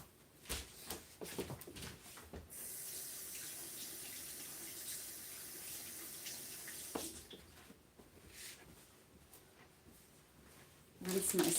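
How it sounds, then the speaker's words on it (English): A kitchen tap runs steadily while a crafting sponge is rinsed under it, a soft continuous water stream preceded by a few handling knocks and closing with clatter, with a voice talking over parts. "rinse my sponge out a little bit there"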